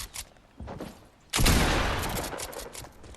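Gunfire in the Fortnite video game: a few faint pops, then a sudden loud burst of shots that fades slowly over a couple of seconds.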